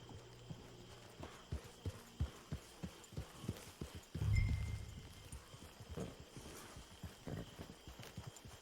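Horse hooves clip-clop in a steady walking rhythm in Red Dead Redemption 2, a run of evenly spaced thuds with a louder rumble midway, and no talk over it.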